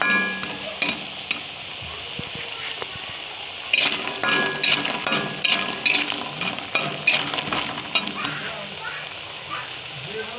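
Pumpkin bori, lentil dumplings, fry in a pan with a steady sizzle under frequent utensil scrapes and clinks as they are turned, while a voice talks nearby.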